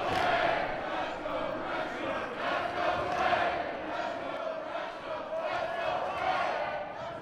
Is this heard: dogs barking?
no